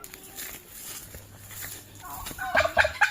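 A turkey gobbles outdoors, a faint bird call giving way to a louder burst of rapid, warbling gobbles near the end, with no talk.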